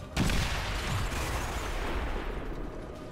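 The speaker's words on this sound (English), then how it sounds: "Should be at a triple explosion with this." A grenade goes off in a sci-fi video game as a triple explosion, a sharp burst followed by a dense, rumbling roar that slowly fades over a few seconds, loud and close.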